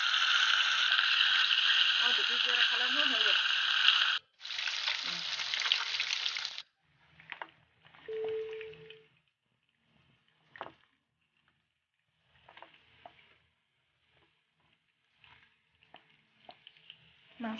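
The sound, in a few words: katla fish pieces frying in hot oil in a kadai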